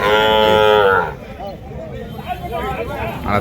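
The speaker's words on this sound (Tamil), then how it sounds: "ஸோ இதுவும் பார்த்தீங்கன்னா மேற்குத்தி பசுமாடுங்க." Cows mooing at a cattle market: one loud, drawn-out moo up close, followed by crowd chatter and general market bustle in the background.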